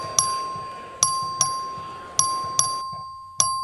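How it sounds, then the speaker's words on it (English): A House chamber vote bell rings in single clear chimes, six strikes at uneven intervals, each ringing on and decaying slowly into the next. "The clerk will ring the bell."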